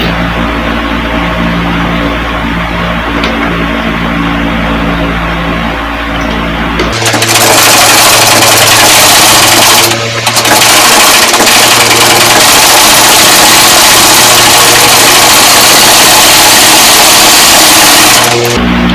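A sewing machine stitches close along a garment neckline, its motor whirring loud and steady for about eleven seconds after a quieter lead-in, with a brief pause in the middle; no voices.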